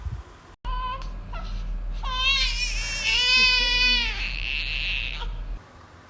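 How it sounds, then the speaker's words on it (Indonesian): A simulated infant's wailing cry, likely played through a speaker to test a baby-cry detector, rises in repeated sobbing bursts over a steady low electrical hum. "jika kita simulasikan suara tangisan bayi"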